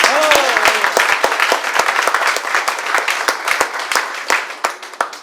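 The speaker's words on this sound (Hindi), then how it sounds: "मेरे ग्रेट मित्र जयेश पटेल के लिए एक जोरदार ताली हो जाए।" Loud audience applause fills a hotel event hall, dense clapping with some sharper individual claps standing out, continuing steadily before thinning toward the end; a voice briefly rises over it near the start.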